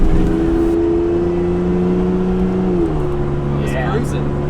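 An Isuzu VehiCROSS project car cruising with a steady engine drone heard from inside the cabin, its pitch easing down slightly partway through as people talk over it.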